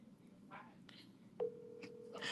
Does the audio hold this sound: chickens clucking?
no